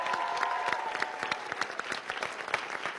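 A studio audience at a Persian TV comedy show applauds, with dense, steady clapping that carries on for the whole stretch.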